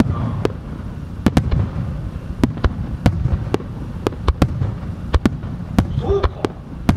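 Fireworks burst at the 2018 autumn Omagari fireworks festival in Japan, a string of sharp, loud cracks and pops at irregular intervals over a low rumbling crowd-and-smoke background.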